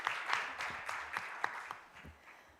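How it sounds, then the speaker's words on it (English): Sparse hand clapping from an audience at an e-payments strategy validation workshop, a handful of separate claps over soft background clapping that tapers off toward the end. "A bigger hand clap."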